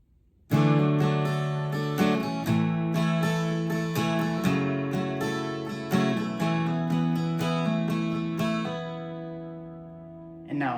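A song's interlude is played on acoustic guitar at normal tempo, a clear, close run of picked notes and chords that continues for about ten seconds before ringing out.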